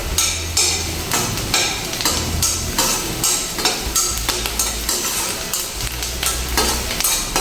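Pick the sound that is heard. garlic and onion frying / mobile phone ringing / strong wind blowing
garlic and onion frying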